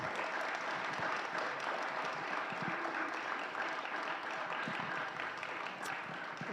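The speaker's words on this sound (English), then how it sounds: "Let's give a round of applause." Sustained applause from a church congregation at a Sunday service, steady and fairly even throughout, heard from a middle distance with no break.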